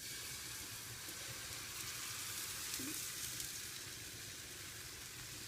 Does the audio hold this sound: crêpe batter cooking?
yes